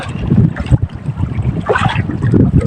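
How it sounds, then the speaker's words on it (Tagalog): Strong wind buffets the microphone in loud, uneven gusts, with a rough, rumbling low roar that comes and goes. "Malakas ang hangin."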